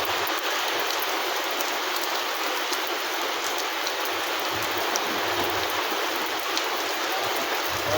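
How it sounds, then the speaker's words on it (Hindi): Dense, even hiss of rain pattering on surfaces outdoors during the season's first rainfall. The rain is continuous and moderately close, and no other sounds stand out. "कम हो गई बारिश।"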